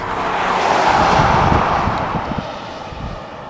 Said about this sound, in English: You also get that rich V6 bellow that Infinity's VQ engine family is known for